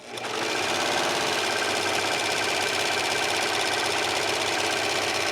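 Serger sewing machine running continuously at high speed while stitching lightweight scarf fabric, a close, steady mechanical whir and rapid needle chatter after a brief start-up.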